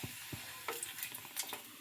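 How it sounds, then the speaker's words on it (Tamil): Soft sizzling of papad frying in hot oil, with light crackles and a few faint clinks, quiet and close. "அப்பளம் மட்டும் பொரிச்சு கொடுத்துடலாம்."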